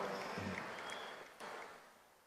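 An audience of women at a public event applauding, a faint, steady wash of clapping that fades slowly, with a brief swell partway through.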